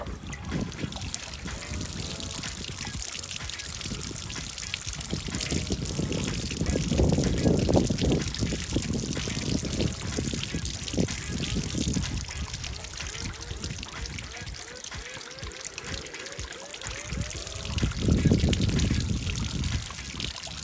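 Water draining from a washbasin fitted with a pop-up drain stopper, with the overflow hole and rear vent hole blocked, a steady nearby gurgling trickle and pour that swells and fades in waves while a voice occasionally speaks.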